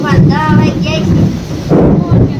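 Loud gusting storm wind roars steadily through a monsoon downpour in rural Gujarat, with water running; a voice speaks over the constant wind noise.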